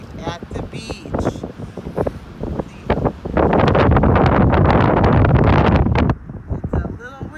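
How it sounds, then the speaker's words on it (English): Strong wind gusts buffet the microphone at a beach, a loud rumbling roar swelling in the middle of the clip, with a person talking over it before and after. "It's a little windy out here"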